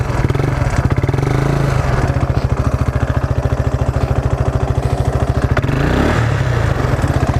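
An ATV high-centered in mud holds a steady, loud, pulsing engine throb that chugs near idle and revs slightly as it tries to break free, with a few clanks along the way.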